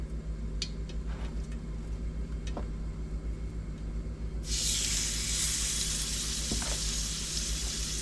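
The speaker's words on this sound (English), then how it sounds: "Oh yeah, that's a sizzle." Lamb chops sizzling in a hot skillet, a sudden loud hissing crackle that starts partway through and keeps frying steadily over a low background hum.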